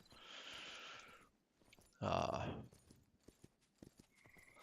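Horses in the video game Myth of Empires give a loud whinny that bursts out over a softer, rushing background, followed by scattered light clattering.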